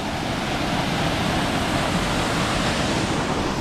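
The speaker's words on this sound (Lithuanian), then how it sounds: "Bet va, iki Krioklio jau atėjom." Mountain waterfall beside the Rysy hiking trail in the Tatra mountains roars as a steady, dense rush of water, loud and constant with no variation or voices.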